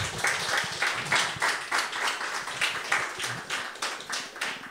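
Applause from an audience at a talk, a full, even wash of many hands clapping that holds steady throughout.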